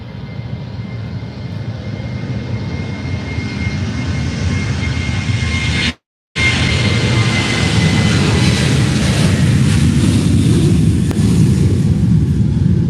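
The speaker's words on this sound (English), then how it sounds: "The Jet A320 is now taxiing" An Airbus A320 jet roars steadily at Faro airport, a loud, sustained engine rumble and whine close by, briefly cut out for a moment midway before resuming at full strength.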